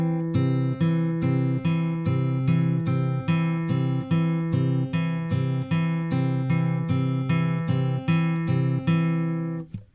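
Fingerpicked acoustic guitar in a Travis style, thumb bass notes pinched together with melody notes on top in a steady, even rhythm; close and clear, with no talking.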